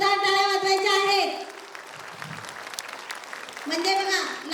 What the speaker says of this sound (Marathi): जेव्हा मी म्हणाले टाळ्या वाजवा तेव्हा तुम्ही टाळ्या वाजवल्या